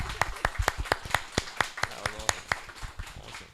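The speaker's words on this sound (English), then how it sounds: "Can we clap first?" Audience at a Melbourne CocoaHeads developer meetup clapping after a presentation, a short burst of about a dozen sharp, evenly spaced claps from a small group, fairly quiet and alone.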